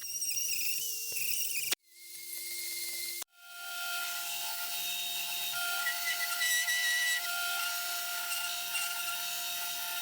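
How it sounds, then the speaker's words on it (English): A rotary grinder with a Kutzall burr carves a wooden bowl made from firewood roots, a steady high whining buzz that stops twice briefly and then restarts and runs on, close and loud. "I use a stride grinder or T-grinder with a Kutzall burr"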